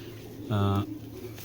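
A big female sabji-colored racing pigeon gives one clear low coo lasting about a third of a second, close and loud against a quiet room background.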